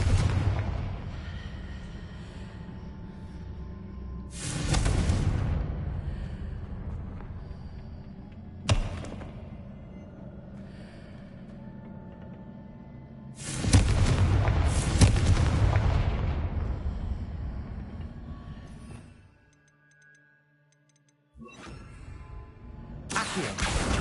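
Confringo spell blasts in Hogwarts Legacy land as three loud, booming explosions with long rumbling decays, spread across calmer stretches of ambient game sound and a brief near-silent gap, no talk heard.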